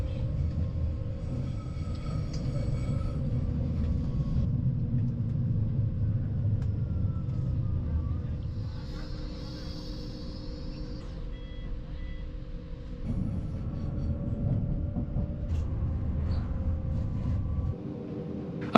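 A metre-gauge FTM train runs from Trento toward Mezzana, heard from inside as a steady low rumble of wheels and motors. A brief high tone comes and goes midway, and there are faint clanks and a dip before the rumble resumes.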